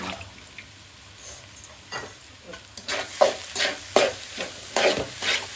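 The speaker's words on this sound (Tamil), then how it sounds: "இப்போ இந்த சொரா புட்டு, அப்புறம் இந்த வெங்காயம், பச்சை மிளகாய், இஞ்சி, பூண்டு எல்லாம் ஒன்றா மிக்ஸ் ஆகணும்" Shark puttu being stir-fried with onion, green chili, ginger and garlic, a low sizzle that is quiet at first and then broken by repeated, louder scraping stirs of the pan.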